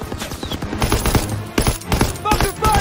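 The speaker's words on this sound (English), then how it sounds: "Covering fire on the MG!" Rapid machine-gun fire in the World War II shooter Call of Duty WWII rattles out in a dense, loud, continuous burst, mixed with other battle noise and shouted voices.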